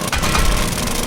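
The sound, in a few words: drilling in the video game 7 Days to Die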